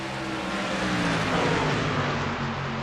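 Stock cars racing at Florida International Speedway, a dense, loud roar of engines held at speed, sustained and close with steady pitch across the whole stretch.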